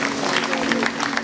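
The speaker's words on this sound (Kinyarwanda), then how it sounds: "amashyi n'impundu nyinshi" At an engagement ceremony, a crowd claps in dense, continuous applause with high ululating cries riding over it, loud and close, mixed with voices.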